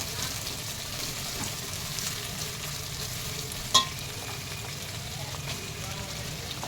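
Onions fry in a pan while being softened for a desi red chicken curry: a constant moderate sizzle with occasional stirring scrapes and one sharp clink midway.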